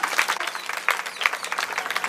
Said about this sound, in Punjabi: ਤਾਂ ਫਿਰ ਤਾੜੀਆਂ ਮਾਰੋ ਜ਼ੋਰ ਦੀ